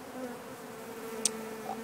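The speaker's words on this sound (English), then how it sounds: "There's just bees crawling around randomly on them." Bees crawling over honeycombs inside a log, a soft continuous close buzz with a brief sharper whine near the end.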